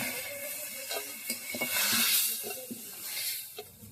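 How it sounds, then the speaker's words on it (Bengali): Prawns fry in hot oil in a pan, giving a soft continuous sizzle with a few light scrapes and taps of stirring, heard close but at low volume. "চিংড়ি ভাজা হয়ে গেছে, এবার আমি চিংড়ি ভাজাগুলো তুলে নেব।"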